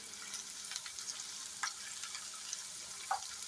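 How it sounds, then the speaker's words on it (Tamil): Potatoes fry in a pan with a soft, steady sizzle while a spatula mixes them, giving a few faint scrapes and taps; fairly quiet and close. "நல்லா ஃப்ரை ஆகிடும்"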